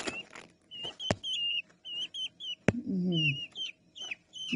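Week-old peahen chicks chirp and peep in rapid, high, bouncy calls, close and lively, with a few sharp knocks and a brief lower squawk mixed in.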